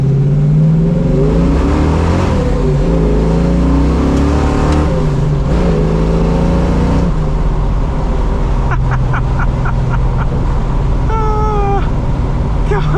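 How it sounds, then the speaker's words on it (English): A 1970 Mustang Fastback restomod revs hard in first gear with a loud, rising engine roar, then rough tire-spin noise and a high squeal near the end. "It just lights up the tires in first gear."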